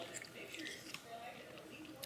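Someone bites down on a small hard Pez candy, giving quiet close crunching and chewing sounds with soft mouth noises and faint murmuring.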